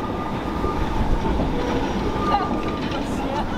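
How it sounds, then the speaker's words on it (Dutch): A tram rolls along rails through a street, a steady rumble with faint wheel squeal and clicking, fairly close, with people talking in the background. "Dus we gaan maar al eens een keertje wachten op de tram."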